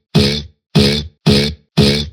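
Processed vocal sample used as the mid layer of a riddim vocal bass, four identical grunting, harmonic bursts repeating in a steady stop-start rhythm, loud and dry with silence between hits.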